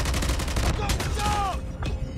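Dense, rapid AK-47 fire in a first-person shooter with maximum recoil, a continuous close burst filling the whole moment, with brief game voice chatter mixed underneath.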